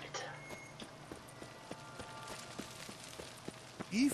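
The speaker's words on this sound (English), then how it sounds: "Even a horse drops if you ride it at a constant gallop." A horse gallops in The Witcher 3: Wild Hunt, giving a regular rhythmic clip-clop of hoofbeats at moderate volume over soft ambient background, with a brief voice-like tone near the end.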